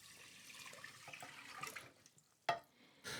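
Tap water running into a bowl to rinse rice, a close splashing flow that stops briefly and then resumes in a bright, louder gush, with no talk.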